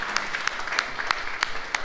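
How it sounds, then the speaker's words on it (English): A small audience at a coffee industry event claps in a light, sparse round of applause, with individual claps distinct rather than blended, fairly quiet overall. "Let's give him a warm round of applause,"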